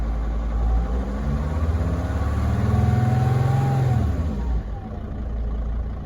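A Mercedes T1N Sprinter van's diesel engine idles, then revs up and holds higher RPM before easing back down to a steady idle, heard close with a low, rough drone.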